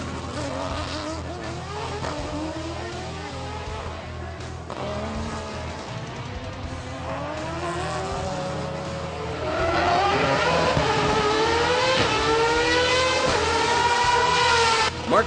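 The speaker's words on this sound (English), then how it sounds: "Mark Vieira in his two-frame Mazda RX-8 was third, holding off the challenge of his countryman Kevin Jeffrey in a Mitsubishi Evolution 8." Race cars including a Mazda RX-8 and a Mitsubishi Evolution 8 circuit racing in Jamaica, engines revving up and down through gear changes with occasional tire squeal, growing louder and closer toward the end.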